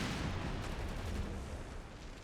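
A Matilda tank cannon firing in the Company of Heroes 3 game: a dense, booming blast with rumbling low-end reverberation that fills the short moment, loud and close, then slowly tails off.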